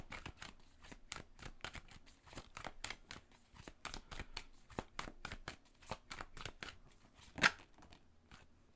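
A deck of tarot cards being shuffled, a close, rapid run of crisp riffling flicks and slaps with one louder snap near the end, no voices.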